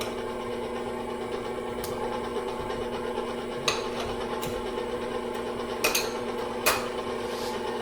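A mixer hums and whirs steadily through bread dough with butter, a continuous mechanical drone broken by a few sharp clanks and knocks against the bowl, no voices.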